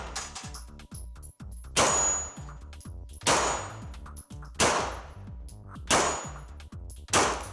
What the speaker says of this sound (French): Petite séance de gong au Glock 17 avec un premier gong très récalcitrant.